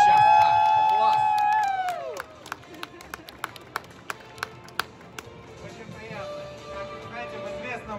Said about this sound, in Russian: давайте еще раз похлопаем